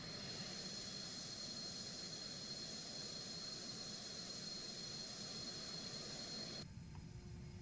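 A fixed-wing airplane engine drones steadily in Microsoft Flight Simulator 2020, a loud continuous roar with a high whine that shifts near the end, with no talking.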